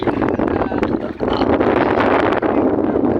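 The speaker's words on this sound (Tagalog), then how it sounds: "Mahangin, mahangin" Loud, steady wind buffets the microphone at a lagoon during mini sailboat test races, a dense continuous roar that barely lets up, with faint voices underneath.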